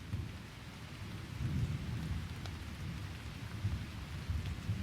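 Thunderstorm outside with steady heavy rain pattering on surfaces and deep rolling thunder rumbling underneath, a dense continuous wash with no voices.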